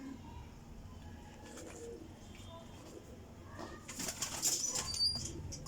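Pigeons coo softly in a low, steady murmur, then a louder flurry of flapping wings breaks out near the end, with faint voices in the background.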